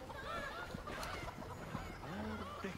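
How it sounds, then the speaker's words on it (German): Chickens in the Family Guy video game, a busy run of squawking, honking bird calls repeating close by over a low background hum. "Gott, diese Hühner, ne?"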